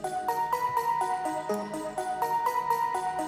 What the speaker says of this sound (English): Then we have another phase plant sound, which is a new one as well. This is sort of a bell type thing,